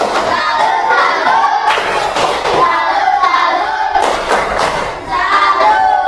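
A primary school class in Indonesia performs a rhythmic clapping salute, a loud burst of many hands clapping in patterned beats mixed with children chanting and shouting together, close and energetic throughout.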